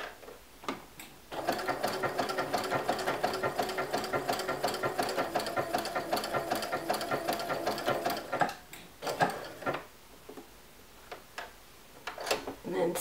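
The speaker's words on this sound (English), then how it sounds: "stitch right up to that corner" A sewing machine stitches a travel wrap up to a corner in a fast, steady mechanical run of about seven seconds, then stops, followed by a few soft clicks and handling noises.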